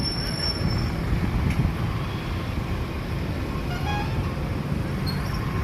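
A train rumbles steadily at Ratnagiri railway station, with faint metallic wheel squeals over a continuous low rolling noise heard from some distance.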